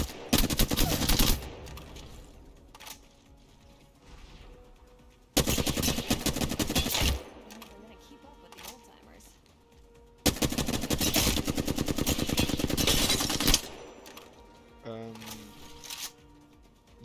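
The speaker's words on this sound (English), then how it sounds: "For example, firing continuously." Continuous automatic gunfire in the Apex Legends video game comes in three long, loud, sustained bursts of rapid shots, each separated by a few seconds of quieter game ambience.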